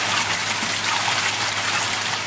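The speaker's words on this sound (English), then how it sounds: "The flow rate will start to increase as more water goes through it." Water gushes steadily through a petro barrier, a loud, constant broadband rush with no pauses and no voices.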